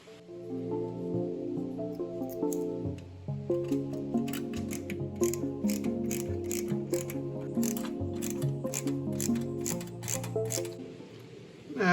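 Sockets are screwed into parts of a Qix arcade cabinet under restoration, giving a long run of quick, light ratcheting clicks close by over steady background music.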